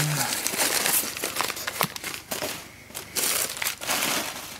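Continuous crinkling and rustling of packing material as a large, heavy parcel of electronic parts such as capacitors, chokes and a transformer is unpacked, close and busy throughout with some brief sharper crackles.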